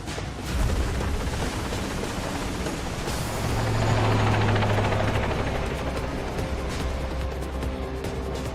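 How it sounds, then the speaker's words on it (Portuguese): A helicopter racing low and fast over water through a winding gorge in Zambia gives a loud, close rotor roar with a rapid chopping beat. It swells briefly midway and carries on without any voices. "você está voando logo acima da água, em alta velocidade, uma experiência que muitos nunca tiveram antes em helicópteros"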